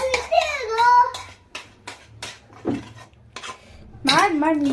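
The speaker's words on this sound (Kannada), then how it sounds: "ಇವಾಗ ಚೆನ್ನಾಗಿ ಮಿಕ್ಸ್ ಮಾಡ್ತೀವಿ" Homemade soap paste is stirred in a bowl with a utensil, giving scraping clinks of metal against the dish in short bursts, with a high-pitched voice speaking at the start and near the end.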